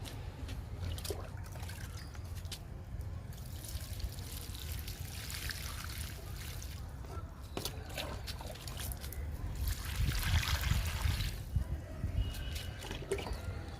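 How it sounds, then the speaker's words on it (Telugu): Water poured from a bucket into potted December flower plants and small pots, a soft, steady trickle and splash that swells louder near the end, faint and close, with a little background noise. "ఇక బుజ్జు కుండీలకి బకెట్లకి వాటర్ ఇచ్చేద్దాము"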